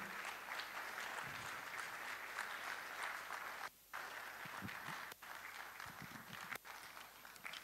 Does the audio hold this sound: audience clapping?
yes